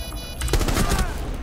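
A rifle fires in Rainbow Six Siege, a rapid burst of loud, punchy shots that runs for about a second over game noise.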